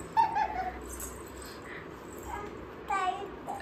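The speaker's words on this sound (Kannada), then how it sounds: "ಪಪ್ಪಿಗೆ ಇವಾಗಲೇ ಟ್ರೈನಿಂಗು." A young puppy whimpering and yipping during training, several thin high whines in short bursts, soft and close, with faint human voices in the background.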